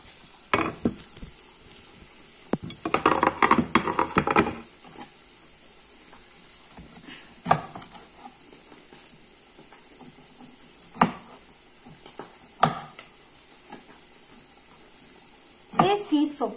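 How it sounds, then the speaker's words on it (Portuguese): Garlic and onion turn golden in a pan, with a low background hiss broken by a few seconds of louder sizzling and scraping as they are stirred, then scattered clinks of a utensil. "E vamos dar uma mexida aqui no nosso alho e cebola, que estão ficando douradinhos."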